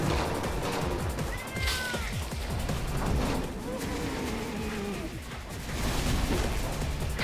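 Cat meows and yowls from South Park: Snow Day ring out during a chaotic boss battle, several short wavering calls over dense game noise, impacts and crashes, with a player speaking now and then.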